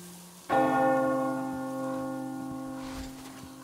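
A single struck church bell in the video game Metro Exodus clangs once, close and loud, its rich ringing tone slowly fading over a few seconds.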